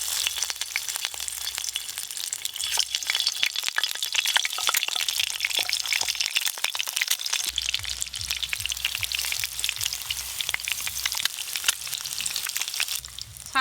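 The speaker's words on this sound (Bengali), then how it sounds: "সর্ষের তেল, এই ডিমগুলো ভালো করে ভেজে নেব।" Eggs fry in hot mustard oil in a pan, giving a loud, close, continuous sizzle with crackling spatters throughout and no talk.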